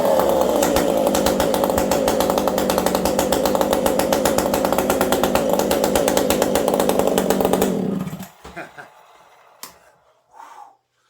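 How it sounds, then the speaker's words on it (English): A chainsaw runs loud and close in a saw shop, its rapid buzzing drone holding steady for about eight seconds before cutting off, followed by a few faint clicks and handling noises. "That's a chainsaw."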